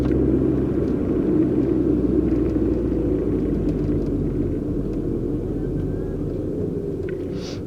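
A van rumbles past outside: a heavy, steady low-frequency drone that fades slightly toward the end, with no talk over it.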